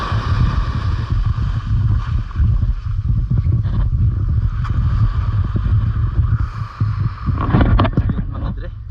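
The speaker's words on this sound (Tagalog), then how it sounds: "Malakas ang alon." Strong waves surge at a beach below the mountains, with a loud, rumbling wash and wind buffeting the microphone. Voices come through faintly now and then.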